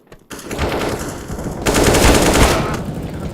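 Rapid automatic gunfire in the video game CS:GO, loud and close, in two sustained bursts with the second one heavier.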